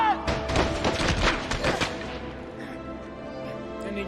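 A gunshot rings out in a Spider-Man movie scene, a loud booming blast followed by several thudding reports and a decaying rumble, all within the first two seconds before quieter background sound.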